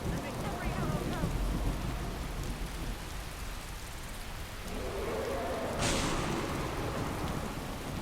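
Steady rain falls in the Skyrim video game, a dense continuous hiss with a brief brighter burst partway through, heard under voices talking.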